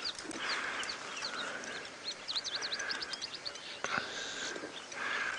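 A pied wagtail gives a run of short, high chirping call notes amid other birdsong and outdoor ambience on a sunrise safari drive, moderately near, with faint background voices.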